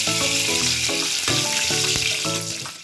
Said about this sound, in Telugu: కరివేపాకు కూడా వేసి ఫ్రై చేసుకోండి